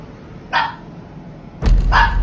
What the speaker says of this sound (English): his dog suddenly barked